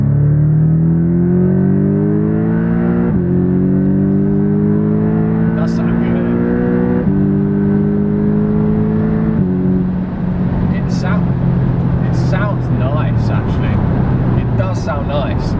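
A Porsche Boxster GTS engine revs hard under acceleration, its loud, rising tone climbing through several gear changes with brief dips between shifts, heard from inside the car.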